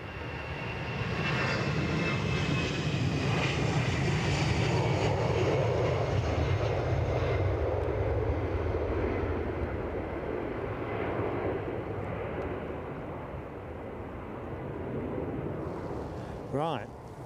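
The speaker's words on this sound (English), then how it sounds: "Delta Airlines are also moving at the minute, just taxiing away from the terminal." A Delta Airlines jet taxies away from the terminal at Edinburgh, making a sustained loud engine roar and whine that slowly eases over the stretch, with a brief click near the end.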